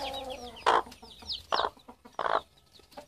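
Young hens and chicks cluck and cheep close by, thin high peeping running throughout with three louder, fuller clucks standing out at intervals.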